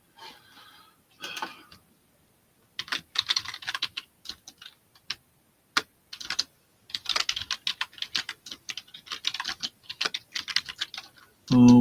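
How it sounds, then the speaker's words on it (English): Computer keyboard typing in quick, uneven bursts of close clicks separated by short pauses, in a quiet room at a live auction, ending on a brief low thump. "Here I am typing in the wrong place again."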